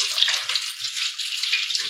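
Tap water runs steadily over small eggplants being washed in a home kitchen, a close continuous hiss with faint bumps and splashes underneath.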